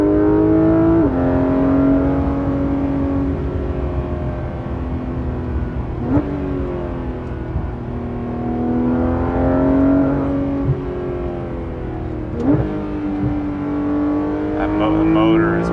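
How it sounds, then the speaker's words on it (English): A Porsche 991.2 GT3 RS engine revs hard while driving, climbing through the gears with repeated rising howls, brief shift breaks and steady loud engine drone throughout, no talk. "The motor is pretty incredible."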